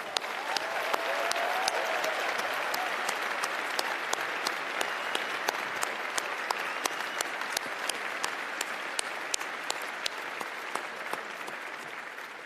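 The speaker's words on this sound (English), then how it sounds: "could I ask you for a huge round of applause for the academics and staff here at Cardiff University who have supported and guided you through your degrees" A graduation ceremony audience at Cardiff University applauds the academics and staff, a dense, even wash of clapping from a large crowd that continues steadily throughout.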